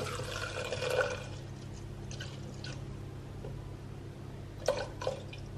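Whiskey is poured into a measure for homemade eggnog, giving a soft, close liquid pour with a few drips and splashes against a quiet room hum.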